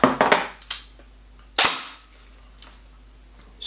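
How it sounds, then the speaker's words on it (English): A Classic Army Nemesis Gen2 LS12 airsoft gun fires sharp, loud, close-up cracks: a quick cluster of shots at the start, one strong burst partway through and another beginning at the end, with quiet gaps between. "Nice rate of fire there, about 20 to 21 rounds a second"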